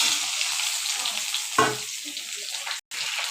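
Chopped squash frying in hot oil with asafoetida, a loud continuous sizzle close by, with a brief clatter as something is added and a short cut near the end.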